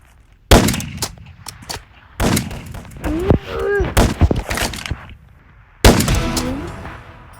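Loud, sharp gunshots in a Roblox shooting game, coming in several separated bursts with a voice speaking between them.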